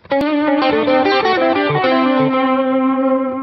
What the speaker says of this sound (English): now we can also turn the chorus back on if we want to.